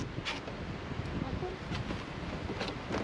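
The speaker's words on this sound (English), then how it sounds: "Wind's blowing it." Wind gusting over open water on a lake during a springtime bass fishing trip, a steady low rush with brief breathy swells, moderately loud and close to the microphone.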